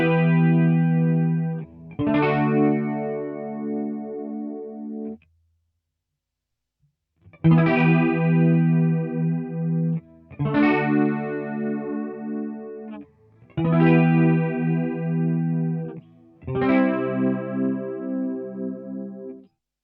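Clean guitar through a chorus effect pedal set to a slow rate, a subtle gentle shimmer on sustained chords strummed in short separate phrases with silent gaps between them.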